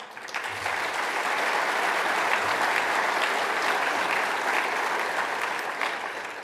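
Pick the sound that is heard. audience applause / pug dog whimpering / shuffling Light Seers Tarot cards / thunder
audience applause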